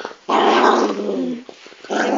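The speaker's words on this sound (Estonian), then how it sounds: "Tema on minu koer." A dog growls loudly and close up in two rough bursts separated by a short pause, the snarling rising and falling without any talk over it.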